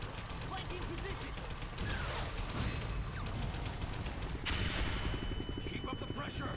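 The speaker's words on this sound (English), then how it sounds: "Give me suppressing fire." Sustained suppressing gunfire in Wolverine X-Men Origins, with dense rapid bursts and shots rolling on without a break and mechanical clatter beneath, while voices talk over the battle.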